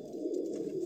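A male racing pigeon (merpati) coos in courtship, one sustained low throaty coo rolling on close and clear, with no voices.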